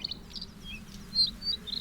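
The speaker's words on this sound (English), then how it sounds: "The bluethroat is a secretive but dazzling flycatcher." Bluethroat singing in Spain: a run of faint, thin high chirps and twittering notes scattered across the clip, quiet and somewhat distant over low background hiss, with no voices.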